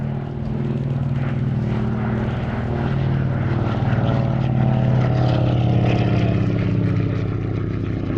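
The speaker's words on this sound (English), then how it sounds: "Lovely, graceful aircraft. Probably up to about 140 knots there as he passes by." A Lockheed 12A Electra twin-engine propeller aircraft drones loudly past at an airshow, its steady rumbling engine note swelling slightly as it goes by.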